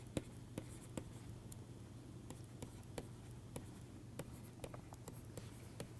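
Chalk or marker writing an equation on a lecture board during a fluid mechanics class, a steady stream of quiet, sharp taps and strokes spaced irregularly over a low background hum.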